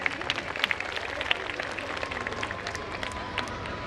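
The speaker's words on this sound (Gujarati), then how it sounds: "એકવાર જોરદાર તાળીઓ થઈ જાય." A crowd at a school event claps for a cash prize given to girls for a Rajasthani dance, with dense, lively applause and sharp individual claps carrying steadily for several seconds.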